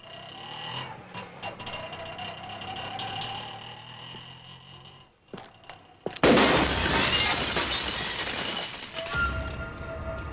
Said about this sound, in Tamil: கண்ணாடி ஒஞ்சி போச்சுன்னு கவலைப்படுறியா?